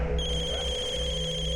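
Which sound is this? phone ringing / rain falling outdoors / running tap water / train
phone ringing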